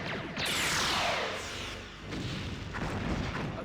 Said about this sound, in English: Evading incoming torpedoes.